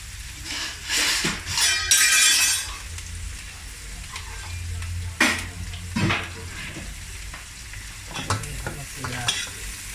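Beef steak sizzles in a home frying pan while it is basted with garlic and oil, with a continuous close sizzle, scraping stirs and metallic clinks of the spoon against the pan coming at irregular intervals.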